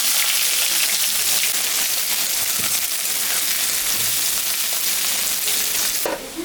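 Onion frying in oil with dried chilli and cumin in a pan that was just used for frying fish, a constant loud hiss of sizzling close up, then a brief clatter near the end.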